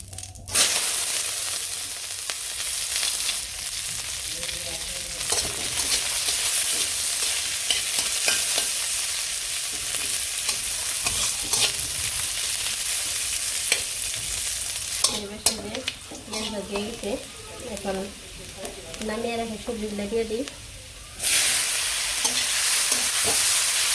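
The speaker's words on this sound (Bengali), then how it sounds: "তাহলে ভেজে নেব মানে হালকা করে একটু ভেজে" Chopped onion and cumin frying in a pan in a village kitchen, a continuous loud sizzle with repeated stirring scrapes, some pitched tonal sounds in the middle stretch, and no speech.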